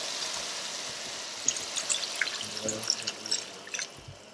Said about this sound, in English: I'll now add in the coconut milk